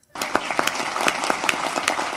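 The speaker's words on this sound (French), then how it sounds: "J'ai encore changé les applaudissements." A short burst of crowd applause sound effect starts abruptly, with dense clapping that stays steady and moderately loud for a couple of seconds.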